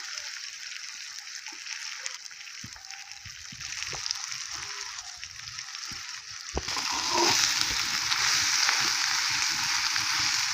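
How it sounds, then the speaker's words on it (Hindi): Eggs fry on a tawa griddle with a steady hissing sizzle and faint knocks, the sizzle growing louder and fuller partway through. "बड़ा मज़े का अंडा बनता है तवे पे भी।"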